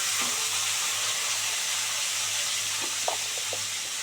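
Potatoes fry in oil seasoned with salt and turmeric, giving a steady, close sizzle and hiss throughout, with a few faint pops and stirring clicks near the end.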